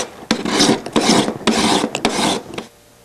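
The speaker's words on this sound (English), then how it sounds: "Once you get done scraping the bottom of the fretboard, that's what it looks like." Close, loud rasping strokes from scraping the underside of a guitar fretboard during binding work: about four long back-and-forth scrapes in a steady rhythm, each separated by a short click, then quiet.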